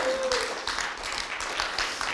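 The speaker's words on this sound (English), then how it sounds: "Give yourself a huge round of applause." Audience applause from a crowd at a talk, a steady wash of many hands clapping that holds evenly from start to finish with no voices over it.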